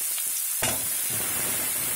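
Chopped onions frying in oil in a pan for egg curry, a loud, dense close-up sizzle that surges sharply after a brief quieter start and then holds steady, with no voices.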